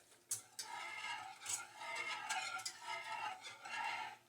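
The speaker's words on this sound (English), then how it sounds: "Whisk." A whisk scraping and swirling through alfredo sauce in a pan on the stove, a continuous soft, rhythmic stirring rasp with small knocks against the pan, fairly quiet and without talk.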